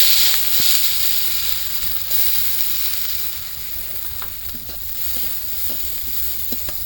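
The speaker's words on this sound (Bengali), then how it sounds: "কড়াইতে তেল দিয়ে দিয়েছি দিয়ে দিলাম পাঁচ ফোড়ন পেঁয়াজ কুচি" Oil in a wok sizzling and crackling steadily after five-spice and chopped onion go in, a close, continuous hiss with small pops and occasional stirring ticks.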